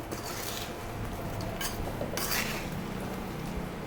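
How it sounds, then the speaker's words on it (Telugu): A spoon scrapes and clinks against a dish while turmeric, chilli, fenugreek powder, mustard powder and salt are mixed for an amla pickle, with a few brief, brighter scrapes in quick succession. "పసుపు, కారం, మెంతిపిండి, ఆవపిండి, ఉప్పు అన్నీ వేసుకుని కలుపుకోవాలి."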